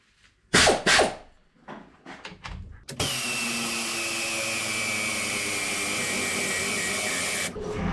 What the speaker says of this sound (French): Je vais prendre deux cliquets pneumatiques pour serrer le.